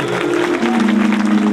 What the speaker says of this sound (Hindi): एक बार जोरदार तालियां लगा लीजिए इस पूरी कमेटी के लिए